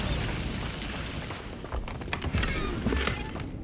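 A Bombarda spell detonating in the Hogwarts Legacy game, a dense crackling burst of blast noise with booming thuds and debris rattle, loud and continuous for a few seconds.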